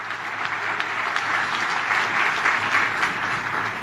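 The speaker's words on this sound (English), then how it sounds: "please join me in applauding him for his wonderful address last evening" Sustained applause from a conference audience, a dense, even wash of clapping hands that stays steady throughout without voices over it.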